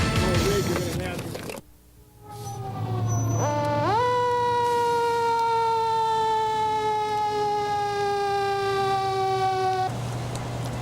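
A fire engine siren wails loudly and steadily close by, its rising and sliding tone holding for several seconds after a brief burst of other noise at the start.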